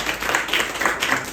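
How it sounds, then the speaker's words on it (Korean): A church congregation at a special lecture claps together on request, a short burst of brisk, rhythmic clapping that sounds close and lively throughout. "우리 박수 한 번만 쳐주세요."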